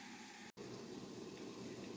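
Water for chicken broth poured into a soup pot for zucchini soup, a faint steady gushing fill with one brief dropout near the start, quiet and continuous.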